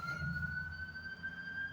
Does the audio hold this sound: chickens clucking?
no